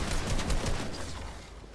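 Bursts of rapid gunfire from the battle royale video game Fortnite, in its Air Royale mode, sound fairly loud and close, then fade off quickly over a short moment.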